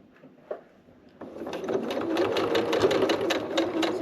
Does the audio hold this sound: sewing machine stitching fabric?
yes